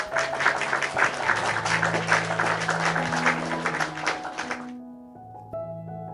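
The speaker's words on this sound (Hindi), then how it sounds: "तो अमन के लिए भी एक जोरदार ताली।" A crowd at a student felicitation event breaks into dense, lively applause that carries on for several seconds before abruptly dying away, leaving a quiet room tone.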